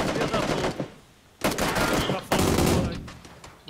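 Gunfire in the video game PUBG comes as dense, rattling automatic bursts separated by short gaps, set over constant game noise.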